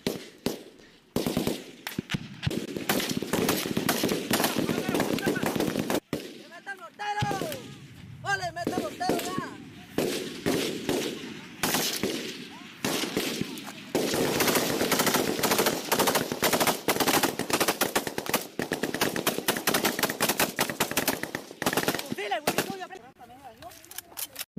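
Combat footage from Colombia carries sustained gunfire: rapid automatic bursts and repeated rifle shots crackle almost continuously, with short pauses between volleys, while voices talk over it.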